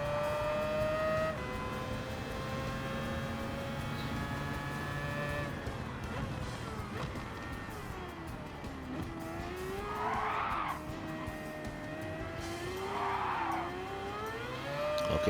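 Race car in Gran Turismo 7 during a WTC 900 race at Spa, its engine droning steadily with shifting pitch and occasional bursts of tire noise, close and continuous throughout.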